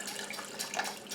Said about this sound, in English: Okay, I'm going to put white vinegar in here.